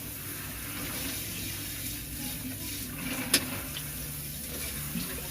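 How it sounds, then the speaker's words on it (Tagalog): Hot water runs steadily into a cooking pot for a home-cooked fish dish, a continuous splashing pour with a brief metallic clink midway. "Tubig na mainit na lagay natin."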